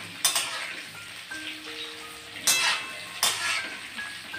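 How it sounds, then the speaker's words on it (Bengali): Sliced onions frying in hot oil in a wok for a home-style meat curry, giving a steady soft sizzle with a few louder scraping stirs and utensil clinks close by. "পেঁয়াজ ভাজা হচ্ছে"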